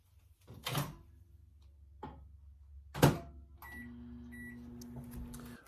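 A microwave oven heats a chocolate fiber cake, with a low steady hum, a few door and handling thunks, and a sustained tone rising near the end, all fairly faint with no talk.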